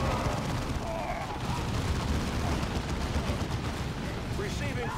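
Gunfire in the Dawn of War II strategy game: dense, continuous battle noise with overlapping shots and blasts, a steady loud wash and no clear gaps.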